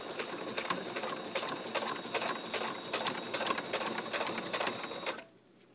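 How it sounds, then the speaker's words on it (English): A sewing machine stitches a pile of ribbons for a cheer bow steadily in a rapid mechanical rhythm, close and continuous, then stops abruptly near the end. "bring it over to a sewing machine"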